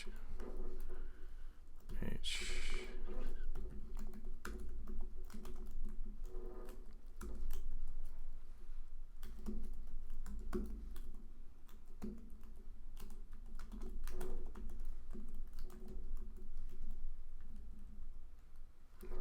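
Typing on a computer keyboard while setting up an app connection to IFTTT, with scattered clicky keystrokes in short bursts, fairly close and quiet, heard beneath someone speaking.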